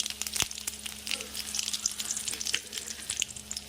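Mustard seeds, chana dal, urad dal and curry leaves sizzle and crackle in hot oil in a home kitchen, a steady close frying hiss with sharp pops and one loud spit near the start, no talking.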